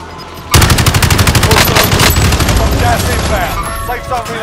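Enemy gunfire in Call of Duty Warzone, a loud sustained automatic burst of rapid evenly spaced shots that starts abruptly and rattles on for several seconds amid game effects.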